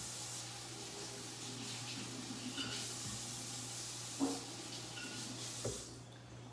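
Tap water runs steadily while mushrooms are rinsed at a kitchen sink, a continuous close hiss with a couple of soft knocks and no talking.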